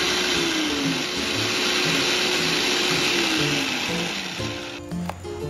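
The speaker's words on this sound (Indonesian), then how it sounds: "Blender hingga halus." Electric kitchen blender grinding shallots, garlic, ginger and nutmeg into a paste, a loud continuous whirring motor with slight pitch shifts as the load changes, easing off near the end.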